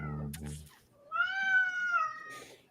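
A house cat gives a drawn-out meow, clear and close, after a brief bit of muffled talk.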